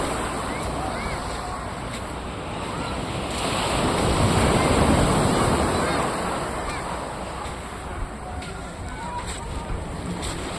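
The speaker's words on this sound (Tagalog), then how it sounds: "Big wave!" Ocean waves crash and roar continuously at Dingalan, Aurora, with heavy wind buffeting the microphone and a bigger surge swelling in the middle.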